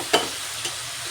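Spiced masala of cumin, coriander and red chili powder with green chilies sizzles steadily in a pan, with two brief louder stirring scrapes over the constant frying hiss.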